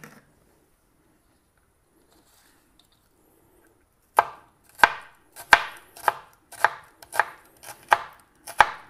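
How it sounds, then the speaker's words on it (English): A freshly sharpened knife chops an onion on a board, about eight crisp, evenly spaced thuds after roughly four seconds of near silence, close and clear with no talking. "I just sharpened my knife before, so it's nice to cut with"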